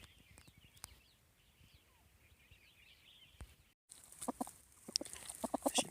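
A chicken clucks softly amid background chirps, then louder, busier clucking and rustling noises come close in the second half.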